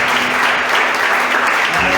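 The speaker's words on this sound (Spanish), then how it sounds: "Dar un aplauso al Señor." A church congregation at an evening Spanish-language worship service breaks into loud, sustained applause, a dense wash of clapping that fills the whole stretch with no pause.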